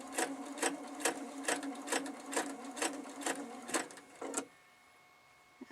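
A sewing machine stitches quilt pieces for a large Cathedral Windows quilt at a 6 mm stitch length, running in a steady rhythmic chatter of about ten even bursts before stopping, close and alone with no talk.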